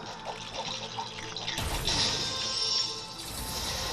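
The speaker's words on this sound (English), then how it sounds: "I'm gonna water these." Watering plants in The LEGO Movie 2 video game makes a game water effect: a soft gurgle, then a sudden splashing crash and a sustained rushing pour like a running tap.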